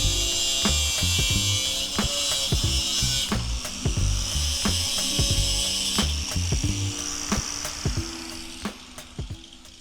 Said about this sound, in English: Nothing a little angle grinder can't fix though.